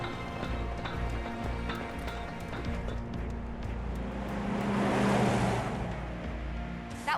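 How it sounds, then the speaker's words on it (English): In Final Fantasy VII Remake, a Shinra truck rumbles along, its engine noise a steady broad drone that swells as the vehicle draws closer, then eases off, with no voices. "That's a Shinra truck, isn't it?"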